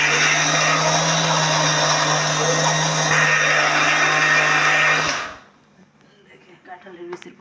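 An electric blender grinds onion and jackfruit in a home kitchen, a loud steady whirring drone with a strong low hum for about five seconds before it cuts off abruptly, followed by quieter handling noises.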